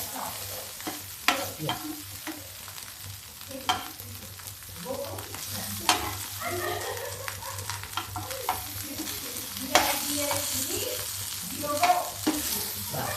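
Potatoes frying in a pan, a soft, fairly quiet sizzle broken by frequent scraping and stirring knocks against the pan, with a low hum running underneath.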